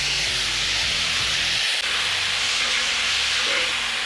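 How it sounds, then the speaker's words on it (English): Baby yellow potatoes tossed into a smoking hot pan give a loud, steady, broad sizzle and hiss that carries on unbroken, with a soft thump partway through and no voices. "the pan is already smoking. So let's throw in our baby yellow taters."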